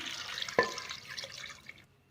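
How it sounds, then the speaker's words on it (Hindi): About two cups of water poured into a pressure cooker pot holding beef, onions and green chilies: a short, soft splashing pour with one sharper splash partway through, close by, with no talking. "2 कप पानी में इसमें ऐड करूंगी।"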